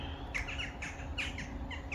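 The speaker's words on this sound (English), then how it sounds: "the crows have been visiting in the garden" Crows calling in a garden give several short harsh squawks in quick irregular bursts over steady background noise, fairly faint and moderately distant, with no voices.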